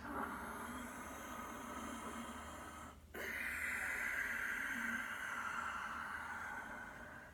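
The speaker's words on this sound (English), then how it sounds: "Ujjayi breath, victorious breath, or just your normal breathing." Slow, steady ujjayi yoga breathing with a soft hissing, ocean-like quality; a long drawn breath, a brief pause, then another long airy exhale.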